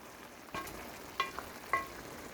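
Watercress being sautéed in a pan gives off a faint, low sizzle broken by a few sharp clicks and pops, with no voices.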